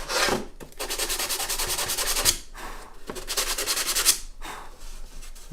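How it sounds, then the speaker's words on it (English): Sandpaper rubs over the wood of a handmade acoustic guitar in quick, steady back-and-forth strokes, close up, in two long runs separated by a short pause. "let me just get some sandpaper and smooth that out real fast"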